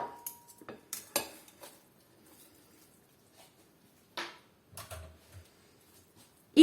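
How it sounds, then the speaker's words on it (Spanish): Drained potatoes tumble into a bowl of beaten egg for a tortilla, with scattered light clinks and soft thuds of the potatoes and utensils against the bowl, separated by quiet pauses. "Ahora que nuestras patatas ya están bien escurridas, las vamos a añadir al huevo batido."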